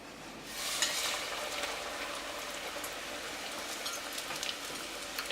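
Plantain frying in hot oil in a pan gives a steady, soft sizzle with scattered crackles and pops, continuous and fairly quiet, with no talking.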